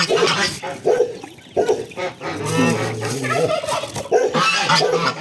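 A goose honks and gabbles repeatedly nearby, loud and insistent, in several quick bursts.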